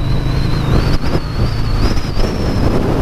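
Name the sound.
wind blowing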